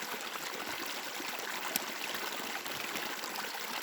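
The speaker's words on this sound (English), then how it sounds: "I'm gonna pretty much stick to the method of just scooping my water up" Water trickles and flows steadily in a small outdoor stream while a compact pouch is dipped to scoop it up, a soft continuous babble with no voices.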